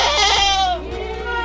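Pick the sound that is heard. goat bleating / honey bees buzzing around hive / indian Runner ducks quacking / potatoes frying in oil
goat bleating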